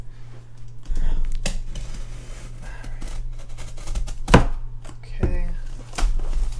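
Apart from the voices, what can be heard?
knife cutting open a cardboard box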